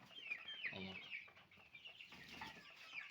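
Cobb 500 broiler chickens cluck softly in a poultry shed, a faint cluster of overlapping clucks and murmurs with low background noise.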